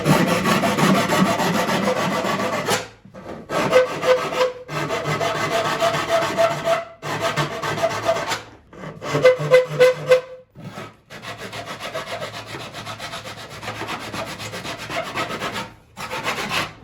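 Repeated rasping strokes of 60-grit sandpaper backed by a 1 mm steel plate, fairing the soundboard edges of a bağlama, close and fairly loud, with short pauses between bursts of rubbing.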